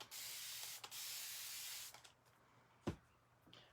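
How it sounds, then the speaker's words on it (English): Water sprayed onto a towel in two long hissing bursts, each lasting about a second, then a quieter stretch with a short thump and a few small rustles. "give a little spray with water"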